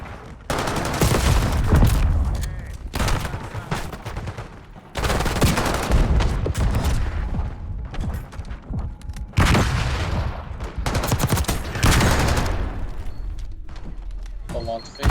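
Call of Duty shotgun gunfire in a multiplayer match, repeated heavy blasts and bursts in clusters across the stretch, loud and dense, with a player talking over the shooting.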